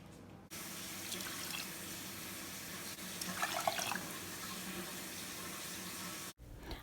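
Two cups of tap water pour steadily into a pot for candy apple syrup made with sugar and light corn syrup, a continuous rushing flow heard alone that stops abruptly.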